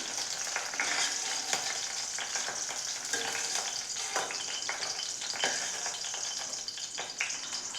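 Sliced okra fries in a pan with a close, steady sizzle broken by frequent crackles and occasional stirring scrapes. No voices are present.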